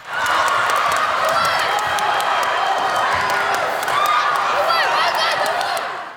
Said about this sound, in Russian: В зале перекликаются голоса болельщиков, в первых рядах которых тренеры и родители.